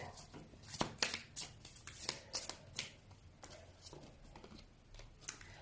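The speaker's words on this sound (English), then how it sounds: "Now let's get another card from the Gabby Bernstein Spirit Junkie deck." A Gabby Bernstein Spirit Junkie card deck being shuffled by hand, soft close riffling and flicking cards in repeated quick bursts, fairly quiet, with no speech over it.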